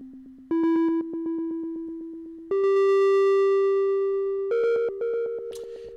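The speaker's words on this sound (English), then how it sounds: "that distortion kind of adds more of a gritty sound to it" Synth tones generated in Sonic Pi with a distortion effect applied, a loud, sustained buzzy gritty note that steps up to higher pitches in several held segments, rough and harmonic-rich, with no voices.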